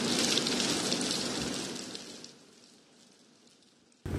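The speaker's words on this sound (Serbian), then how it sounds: "Sad je kiša" Rain falling during a thunderstorm downpour in Novi Pazar, Serbia, a dense broadband hiss that is loud at first, then eases and thins before a sudden loud return near the end, with no talk.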